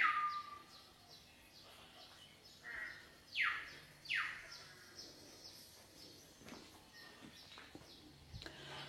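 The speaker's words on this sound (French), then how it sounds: "Moi, j'entends des oiseaux." Several jungle bird chirps and quick sweeping calls ring out over a faint, steady hum of dense background ambience, with scattered rustles.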